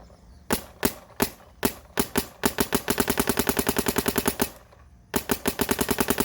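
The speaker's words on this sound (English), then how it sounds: "Now you can hear this gun does not have that distinctive two-stage sound with the vent kind of psh sound and then the pop" Shots from a Planet Eclipse Geo 4 paintball marker: a few spaced single pops, then a fast rapid-fire string of sharp cracks, a brief pause, and another quick burst, close and loud with no talking.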